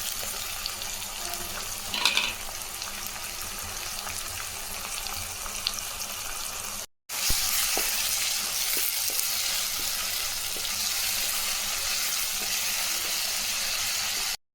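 Onion and tomato frying in a pan for a Tamil dried-fish thokku, a steady broad sizzle running throughout, briefly cut off mid-clip and then returning louder with occasional clicks of stirring.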